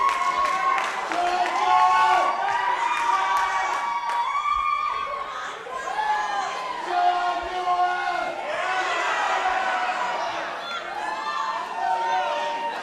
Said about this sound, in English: The crowd's just loving this.